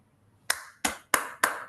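Four sharp claps from participants in an online club meeting, spaced evenly about a third of a second apart after a brief quiet start, close and dry with no talking.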